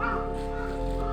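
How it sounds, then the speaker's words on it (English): A crow at a castle gives a single hoarse, drawn-out caw, fairly close and clear against light outdoor background. "the crow."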